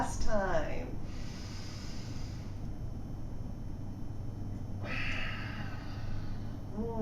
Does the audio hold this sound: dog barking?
no